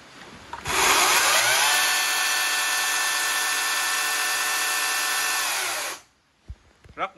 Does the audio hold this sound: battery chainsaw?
yes